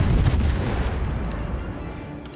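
Heavy booming naval gunfire in World of Warships rolls out in a dense burst, loud and low, fading slightly over a couple of seconds.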